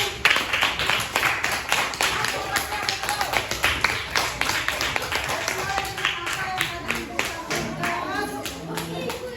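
A classroom group claps for a student team after their presentation, brisk uneven hand claps from a modest crowd, close and fairly loud, with some voices mixed in.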